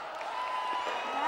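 A TV New Year's concert audience applauds and cheers for a pop duo, a steady, dense wash of crowd noise throughout with faint voices mixed in.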